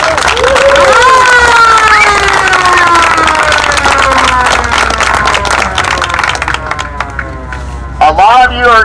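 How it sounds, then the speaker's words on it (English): A crowd at a Wednesday night car-club meeting claps and cheers loudly, with whistles and raised voices sliding across the roar, then it thins toward the end as a voice returns. "let's give them a round of applause."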